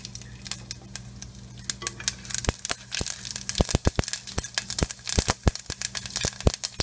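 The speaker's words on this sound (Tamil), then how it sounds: "அந்த எண்ணெயில் நான் கடுகு, உளுந்தம்பருப்பு, வெந்தயம், காஞ்ச மிளகாய் போட்டு நல்லா பொரிய விட்டுக்கிறேன்." Mustard seeds, urad dal, fenugreek and dried chillies frying in hot oil give off irregular sharp pops and crackles over a steady low sizzle, close and fairly quiet, with no talking.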